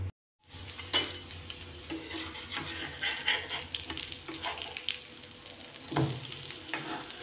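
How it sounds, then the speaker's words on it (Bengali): Kidney bean burger patties hit hot oil after a brief silence, then a close, continuous sizzle with occasional metallic clinks of a utensil against the pan, swelling slightly at times; no voices. "এবার এই প্যাটিগুলো দিয়ে দেব। প্যাটিগুলো দিয়ে দিয়েছি। এবার আমি একটু ভালো করে ভেজে নেব।"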